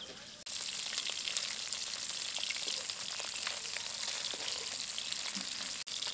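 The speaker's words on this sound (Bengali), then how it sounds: "মাছগুলোকে ঘুরিয়ে ফিরিয়ে ভেজে নিয়েছি," Leta fish frying in hot oil while being turned, a steady close sizzle running throughout with a couple of brief breaks, no talking.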